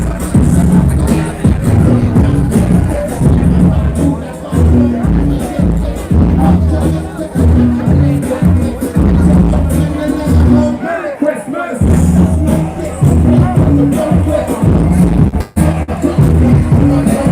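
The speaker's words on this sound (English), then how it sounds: "And here's the crowd." A large outdoor crowd at the 420 Vancouver event forms a loud, dense, steady hubbub of many voices, with a brief dip partway through before the murmur swells back.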